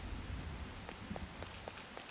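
Rain falls steadily in the video game Persona 5 Royal, a soft even hiss with scattered faint drip-like patters throughout, no voices.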